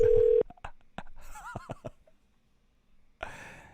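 A telephone dialing a call: a steady tone cuts off, then a quick series of short dial beeps, followed by a soft breathy pause and a brief return of tone at the end.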